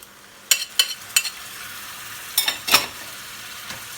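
Chopped tomatoes go into a hot pan for a minced meat pide filling, with a faint continuous sizzle broken by several short bursts of stirring and scraping.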